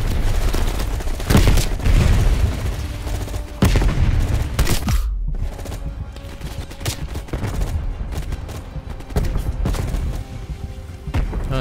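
Grenade launcher shots and blasts in Call of Duty Black Ops Cold War during a defense against a VC attack: several loud, booming bursts spaced irregularly over a constant rumbling battle din, with a sharp hollow pop near the middle.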